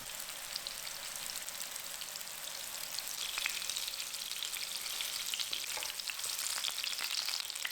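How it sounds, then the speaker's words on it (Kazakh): Flour-coated fish cutlets dropped into hot oil and frying over medium heat, a continuous fine crackling sizzle like light rain that grows a little louder partway through, with faint scattered pops and no talking. "Бірден қызған майға саламыз. Орташа отта қуырамыз."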